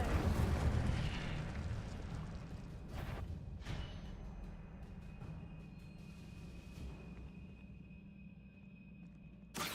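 Fire spells cast in Hogwarts Legacy, heard as a dense roaring whoosh at the start that settles into a steady crackling rumble, broken by a few sharp bursts, with no talking.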